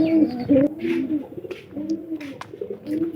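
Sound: pigeons cooing, local and Giribaz pigeons

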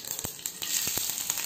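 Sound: mustard seeds, urad dal and garlic frying in hot oil

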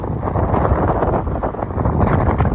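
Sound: strong wind

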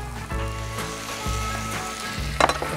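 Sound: onion, garlic and bell pepper sizzling in a paella pan

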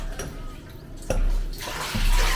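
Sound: wringing water from a cloth into a bucket

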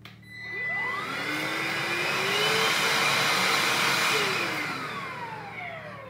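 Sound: Beldray Cordless Quick Vac Lite vacuum cleaner running

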